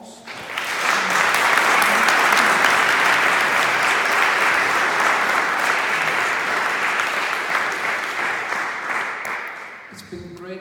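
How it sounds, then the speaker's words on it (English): An audience at a Q&A on the resurrection of Jesus breaks into steady, loud applause for the speaker, holding strong for about ten seconds before tapering as a voice resumes. "Give him an applause."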